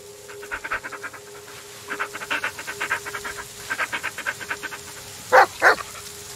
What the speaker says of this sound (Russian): Ты не гавкай так мне в нос.